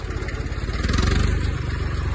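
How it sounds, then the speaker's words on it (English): A tractor engine running on a test drive after its fuel tank was cleaned of sludge, a steady rhythmic mid-range chug close by that swells slightly in the middle, with no talk. "the tractor's going well"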